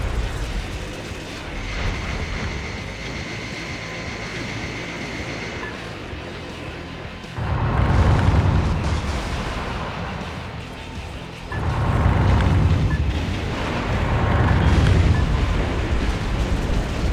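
Heavy explosions boom through a video game, low rumbling blasts swelling at about eight seconds and again near twelve and fifteen, over a steady mechanical drone with no talk.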